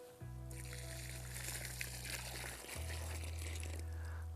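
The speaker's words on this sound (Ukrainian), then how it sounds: "Візьмемо десь близько 2-3 літра води, нальємо в нашу яму." About two to three litres of water poured into a planting hole dug for a linden sapling, a steady, fairly loud continuous rush over a low hum, with no talking.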